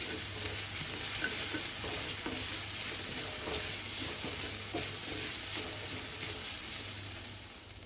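Two green chillies stirred into onions frying in oil in a pan over a medium flame, giving a steady close sizzle broken by soft scraping stirs throughout.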